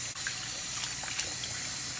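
Water runs steadily from a kitchen tap while food, khao poon ingredients being rinsed, is washed in a sink; a continuous close splashing hiss with no talk.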